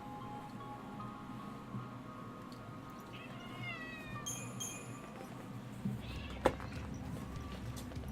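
A cat meows faintly several times in a quiet room while a dog bothers it, with light rustling and a soft thump in the background.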